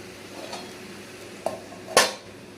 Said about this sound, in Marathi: अशी 5-5 मिनिटांनी वाफेवर ठेवून हलवून घ्यायची.